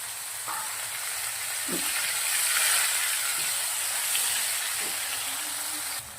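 Chopped tomato sizzles in hot oil with green chillies and curry leaves, a steady close frying hiss broken by a few soft knocks of stirring, with no talk.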